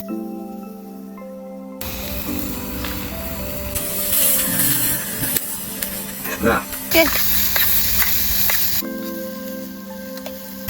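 Vegetables sautéing in a pan at an outdoor cooking spot, a steady sizzle and spray with some stirring and rubbing noises, in the foreground throughout.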